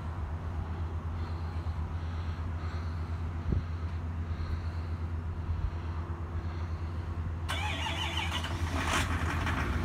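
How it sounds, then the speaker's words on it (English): A 2017 Duramax L5P diesel pickup cold-starts at minus five degrees, a steady low rumble of idling engine throughout, with a harsher, brighter surge near the end as the diesel revs up, close and loud. "-5, cold start on the 2017 Duramax L5P."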